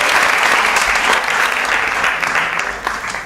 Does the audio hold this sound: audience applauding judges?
yes